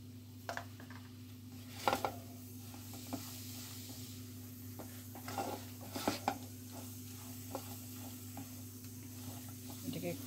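A spice mix of black salt, asafoetida and black pepper is stirred in a pan for lanka chop, giving soft scraping taps and a few sharper clinks over a steady low hum, close and fairly quiet.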